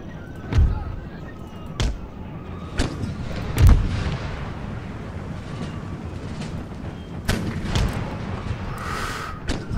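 Cannon and artillery fire in the Napoleonic-era strategy game Empire: Total War, with several sharp, booming reports spaced irregularly over a dense rumbling battle ambience of musketry and distant noise.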